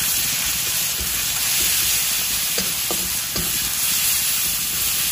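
Ginger and garlic fry in a pan for an Assamese pork curry, with a constant loud sizzle and a few soft stirring scrapes, and no talking.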